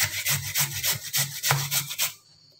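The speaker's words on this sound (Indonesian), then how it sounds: "Selanjutnya saya akan parut serut satu buah wortelnya ya. Saya pakai parutan keju biar hasilnya itu sedikit lembut." A carrot being grated on a cheese grater, about ten even rasping back-and-forth strokes in a brisk rhythm, close and clear, then the scraping stops and the clip goes quiet.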